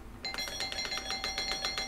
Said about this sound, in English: I'm going to ring his doorbell, and maybe he'll give me a house tour.